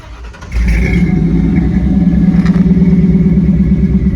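A Ford 4.6 V8 engine fires up and settles into a loud, deep, lumpy idle, rumbling steadily up close.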